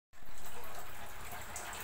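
Water poured into a pressure cooker holding khichuri, a rice and lentil dish: a steady, close gush that starts abruptly and runs without a break, with no voices.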